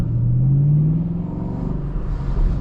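Deep, steady rumble from the stock exhaust of a 2014 Ford Shelby GT500, heard from inside the car as the engine note rises briefly and then settles into a low, continuous throb.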